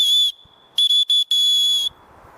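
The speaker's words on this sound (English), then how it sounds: "and there is my whistle, and I'll show you that now, how loud that goes" A small survival whistle attached to a paracord bracelet gives shrill, piercing blasts: one long toot, two quick short ones, then a sustained blow, loud and close with no talking.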